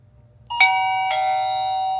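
A cheap wireless doorbell chimes during pairing, two bright bell tones ringing out close and loud, the second strike sustaining to the end over a faint low hum.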